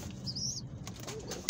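Pigeons flap their wings close by in a steady flurry, with a brief sharper flutter near the end.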